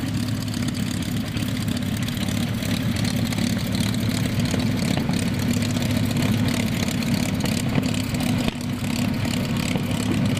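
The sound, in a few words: P-51 Mustang aircraft engine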